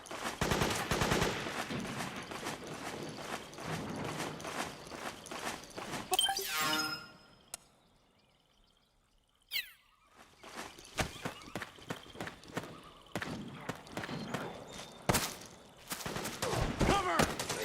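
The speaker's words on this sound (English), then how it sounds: "Suppressing fire!" Bursts of suppressing gunfire from Metal Gear Solid 4, sharp cracks and rattling volleys that fade into near silence midway before shots resume in scattered, uneven bursts.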